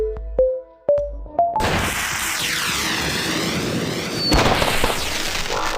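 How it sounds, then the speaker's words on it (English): A flare fired in the Chug Patrol kids' train game: a few short rising tones, then a loud whooshing burst that fizzes with a sweeping hiss for several seconds, a brief crackle near the end. "Press the glowing button to fire the correct flare."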